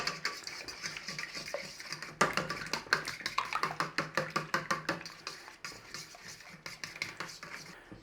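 A quiche wet mix of cream, salt and pepper is whisked in a bowl, making a quick, steady run of light clinking taps up close that picks up pace after a quieter start.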